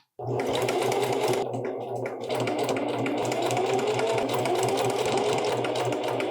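A home sewing machine runs a steady, continuous stitching whir with a brief slowdown early on, close and loud, while a person speaks over it while sewing pants.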